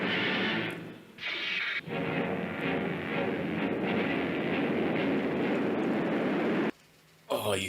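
A tram runs along its rails with a steady, loud rumbling roar, dipping briefly near the middle and fading out toward the end.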